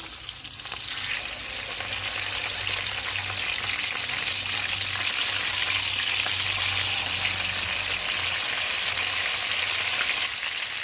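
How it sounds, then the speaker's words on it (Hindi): Fish sizzling steadily on a tawa over medium heat, a continuous bright frying hiss with a low hum beneath, close and fairly loud throughout with no talking. "इसको मैं दरमियानी आंच से फ्राई कर रही हूँ।"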